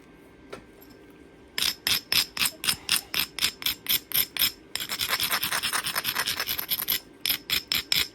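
A flint platform edge is ground before knapping: a close, dry rasping of stone on stone in a long run of quick, regular strokes, with a denser stretch of scraping midway and no talk.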